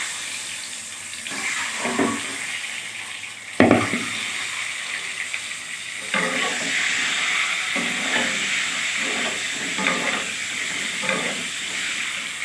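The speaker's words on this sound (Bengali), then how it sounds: "এবার আমি এই ডিমগুলো দিয়ে ভেজে নেব।" Eggs fry in hot oil with a continuous crackling sizzle that swells with louder bursts and occasional stirring clatter, heard close and alone.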